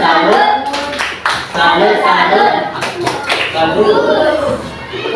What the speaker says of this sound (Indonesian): Berapa tepuk salut untuk 3 dan 2